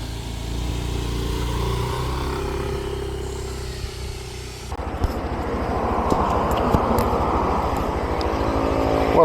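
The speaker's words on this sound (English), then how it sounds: "Test ride time on the Aerox 155." A Yamaha Aerox 155 scooter engine idles, then revs up as the ride begins, a steady buzzing drone that rises in pitch and grows louder with wind rush during the second half.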